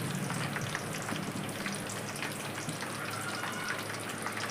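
Curry leaves crackle and fry in hot oil for an herbal hair preparation, a dense, steady sizzle with a faint low hum, continuous and fairly close with no voices.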